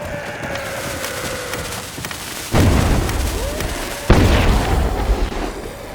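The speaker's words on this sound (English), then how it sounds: "we can destroy our enemy with this dynamite" In a Unity game demo, a dynamite blast goes off as a deep boom over a steady ambient game background, followed about one and a half seconds later by a second sharp explosive hit with a rumbling decay.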